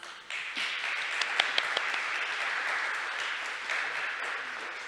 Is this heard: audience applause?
yes